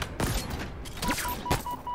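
Grenade and gunfire in the video game Halo Infinite, a few sharp bursts and booms spread unevenly across two seconds, with short tonal beeps between them.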